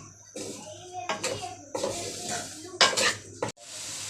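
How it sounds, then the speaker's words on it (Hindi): Chicken pieces fry in a pot for a chicken and turnip curry, with metallic clanks and scraping stirs over a faint sizzle, close up, in short bursts separated by pauses. "यहाँ पे हमारी जो है चिकन वो फ्राई होना शुरू हो गया है।"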